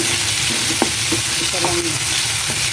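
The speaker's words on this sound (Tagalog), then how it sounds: "Igisa ko lang yung ulo ng salmon" Salmon head sautéing with garlic, tomato and chili in a pan, a steady bright sizzle with a few light scrapes and clinks of a stirring utensil, close and continuous.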